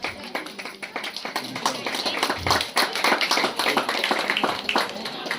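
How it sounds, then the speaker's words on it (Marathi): Audience clapping at a felicitation ceremony during a village Kulswamini anniversary event, a sustained patter of many hands close by, with voices mixed in. "सर्वांनी टाळ्या वाजवायच्या आहेत."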